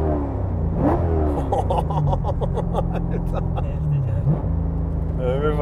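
Subaru BRZ with a swapped LS3 V8 making about 500 PS, engine note rising under acceleration with repeated rev swells, heard under ongoing talk from the occupants.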